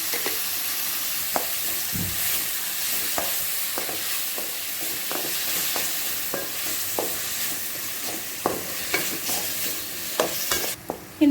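Tomatoes cook in a pan with salt and turmeric for a garlic rice dish, crackling in a steady sizzle as a spoon scrapes and stirs at regular intervals, close and alone.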